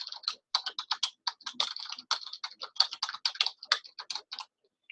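Rapid, steady typing on a computer keyboard while entering notes into accounting software, many crisp close keystrokes in quick bursts with brief pauses, and no voice.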